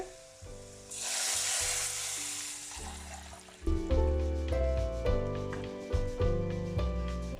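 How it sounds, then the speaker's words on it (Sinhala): Sri Lankan potato curry simmering and sizzling after coconut milk is poured in, a steady bubbling fry with a burst of pouring hiss early on, set against loud background music. "ඒ පොල් කිරි ටික හොද්දට දාගන්න."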